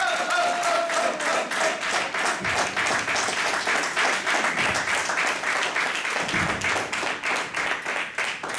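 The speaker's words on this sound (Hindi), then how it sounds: "जोरदार तालियों के साथ स्वागत कीजिए एमसी कोच सौरभ तिवारी का।" Sustained applause from an audience welcoming a master of ceremonies, a coach, at a leadership centre event, dense and steady for the full stretch with a few heavier claps and thumps standing out near the microphone.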